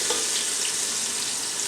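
Frozen ginger garlic paste sizzles steadily in a hot pan, giving a close, loud, continuous frying hiss with no voices.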